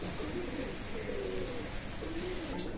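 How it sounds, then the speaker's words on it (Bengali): Pigeons of a fine bloodline coo in a loft, several low soft repeated coos close by over a steady background hum. "চমৎকার ব্লাড লাইনের কবুতর।"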